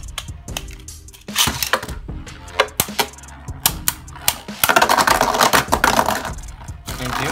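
Beyblade Burst spinning tops, Doomscizor D3 and Kinetic Satomb S3, are launched into a plastic stadium, giving sharp clacks and clicks as they collide, then a sustained scraping whir of spinning, close and loud.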